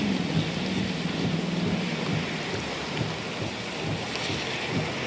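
Heavy rain pours steadily during a multi-vortex EF4 tornado storm in Hattiesburg, Mississippi, a dense continuous roar with low rumbling thunder underneath, loud and unbroken throughout.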